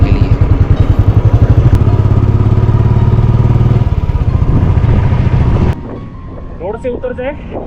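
Motorcycle riding on a high mountain pass in Ladakh, a loud rhythmic engine thrum with wind rush for about six seconds, then it drops away to quieter engine noise as a voice speaks.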